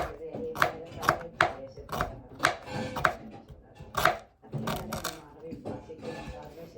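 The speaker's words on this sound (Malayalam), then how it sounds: "ഞാൻ ഇച്ചിരി വലിപ്പത്തിൽ കൂട്ടി അരിയുള്ളേ" A knife chops vegetables on a cutting board in quick, uneven strokes, sharp close taps in a loose rhythm with faint voices behind.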